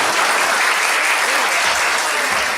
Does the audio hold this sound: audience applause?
yes